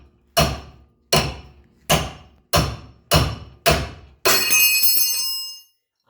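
Six sharp metallic strikes of a hammer on a steel leaf spring bracket of a 1997 Ford Ranger in a steady rhythm, followed by a longer ringing clang that sustains and fades; close and loud, no talking.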